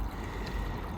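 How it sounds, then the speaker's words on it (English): Water is dumped out of a dish in a continuous, close splashing pour that fills the entire brief moment with a rushing, bubbling wash and no talking over it. "Dumping the water out."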